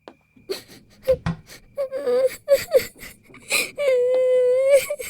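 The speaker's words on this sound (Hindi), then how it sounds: "मेरी बच्ची रो नहीं" A young girl crying in a Turkish drama, with broken sobs, gasps and drawn-out wails, close and loud.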